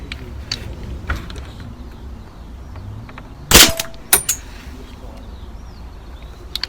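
A pellet gun firing ball bearings from a loaded magazine gives one sharp, loud crack followed by a couple of smaller metallic clanks over a quiet room background.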